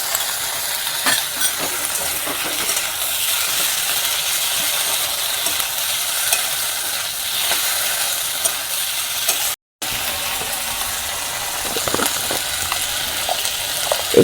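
Chopped tomato and ginger paste fry in a pan for aloo dum, a loud, continuous hiss of sizzling oil with scattered clicks and scrapes of stirring, briefly dropping out for an instant partway through.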